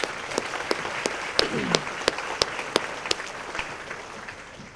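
Audience applause for school principals at an education awards ceremony: a spread of clapping from the room with several sharp, distinct hand claps standing out near the microphone, steady for a few seconds.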